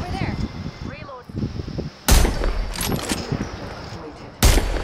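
Gunfire in Apex Legends: sharp, loud shot bursts and booming blasts crack out over the ongoing game audio, with a second heavy burst near the end and players talking throughout.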